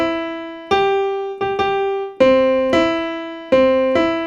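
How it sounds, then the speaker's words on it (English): A tonal instrument plays a major third interval again and again as a short melodic figure like the opening of Kumbaya, with several struck notes ringing with rich overtones, close and clear with no talking. "So that's the major third right there."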